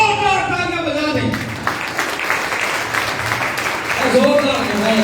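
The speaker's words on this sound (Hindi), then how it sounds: "इनके लिए जोरदार तालियां बजा दें" A church congregation gives loud applause for four people, a thick, continuous clapping that fills the middle of the stretch while a voice speaks at the start and again near the end.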